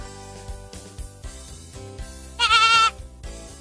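A goat lets out one loud, wavering bleat near the end, over a soft looping background tune.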